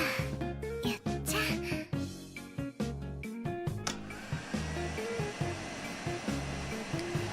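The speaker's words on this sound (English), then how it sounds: "Lucy glides across the floor with the vacuum cleaner." Vacuum cleaner in the video game Get Out, a steady whirring motor drone running throughout, with sharp tonal stabs layered over it during the first few seconds.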